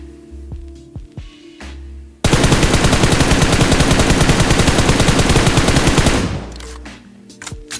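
Automatic gunfire from a weapon in the mobile game PUBG Mobile: a loud, dense, rapid burst of shots lasting about four seconds, with quieter sounds before and after.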